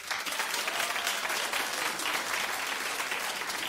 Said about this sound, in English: Clap if you think that this is a good idea.